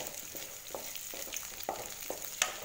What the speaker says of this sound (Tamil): இப்போ இதை கூட நம்ம வாட்டி வச்சுக்கிற வெண்டைக்காயில் சேர்த்துக்கலாம். சேர்த்துட்டு நல்லா மிக்ஸ் பண்ணி